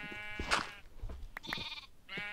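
Several sheep bleat in the video game Minecraft, three or four nasal, wavering calls in quick succession, close and clear over faint background clicks.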